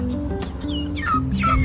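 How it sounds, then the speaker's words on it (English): Little chickens peep and chirp in the morning, with several short, bright calls rising over a steady low background hum. "I woke out this morning and there's little chickens"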